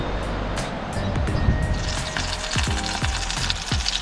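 Leftover rissoles and lasagna toppers sizzle in a pan at a summer freedom campsite in Kaikoura, a steady close frying hiss with a few clinks and low background rumble.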